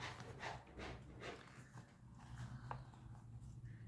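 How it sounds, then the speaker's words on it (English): A dog pants quietly in the background in a rapid, rhythmic series of soft breathy puffs, faint and close, with no talking. "And that was my dog, if you're wondering."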